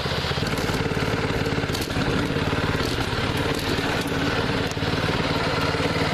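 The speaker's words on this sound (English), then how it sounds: "Almost crashed the freshly restored lawnmower." Small tractor-style riding mower engine, freshly restored, running loud and close throughout, a steady buzzing chug with faint rattling.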